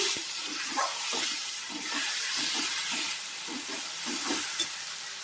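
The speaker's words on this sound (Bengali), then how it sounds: "হ্যাঁ, পেঁয়াজগুলো ভাজা হয়ে গেছে। ভালো করে নাড়িয়ে নিচ্ছি।" Onions sizzle steadily in a pan while a utensil scrapes and stirs in a repeating rhythm, close up, with no talking.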